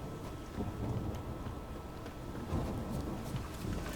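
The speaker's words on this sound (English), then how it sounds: "Rain was coming." Rain pours steadily in The Witcher 3: Wild Hunt, with low thunder rumbling beneath a constant hiss of falling water, moderately quiet and without talk.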